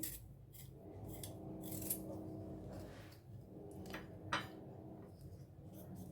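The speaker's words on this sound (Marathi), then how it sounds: "तर आता साल आपण ही सर्व काढून घ्यायची बटाट्याची" Potato skins scraped off with a peeler or knife in a home kitchen while preparing a potato curry: a steady run of close, dry rasping and scratching strokes, fairly quiet, with no talk.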